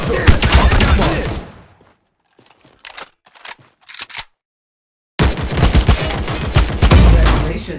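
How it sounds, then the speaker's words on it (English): Bombardment gunfire in the mobile shooter Omega Legends: dense, loud rapid-fire bursts open the clip, give way to a near-silent gap with a few sparse cracks, then a heavy barrage resumes and runs to the end. "bombardment. Warning, keep your eyes open."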